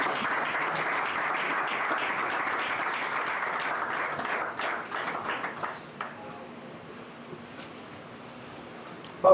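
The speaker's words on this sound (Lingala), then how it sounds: "Et nous invitons Papa Georges à approcher sous vos applaudissements" An audience applauds at a retirement ceremony for a Congolese theatre figure, with dense clapping for about six seconds that then thins to scattered claps and quiet.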